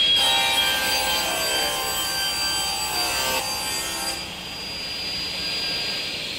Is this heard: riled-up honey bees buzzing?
no